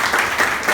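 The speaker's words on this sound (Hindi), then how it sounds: "वेरी गुड, ताली बजाने के लिए" Schoolchildren in a classroom clap together in a brief burst of dense, fairly close applause.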